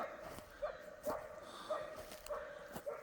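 A hunting dog on a rabbit hunt in woodland gives a series of short, high yips at regular intervals, somewhat distant and faint against a quiet outdoor background.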